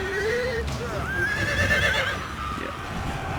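A horse whinnies in the Total War Saga: Thrones of Britannia strategy game, a rising and falling neigh set among battle noise, with a voice talking over it.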